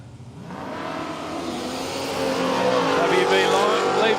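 Drag racing cars, one a dual cab Toyota Hilux, launch hard off the line at Willowbank Raceway, engines revving and rising in pitch and loudness, with a commentator talking over the roar.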